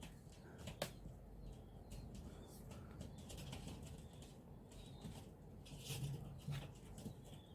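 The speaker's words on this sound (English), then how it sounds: "The pigeons are driving me crazy." Pigeons around an indoor painting space, with soft low cooing and a few sharp bursts of wing flapping at quiet distance.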